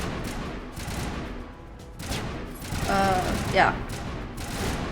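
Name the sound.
gunfire in the video game Mass Effect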